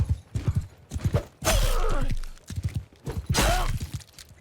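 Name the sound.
horse galloping in video game Mount & Blade II Bannerlord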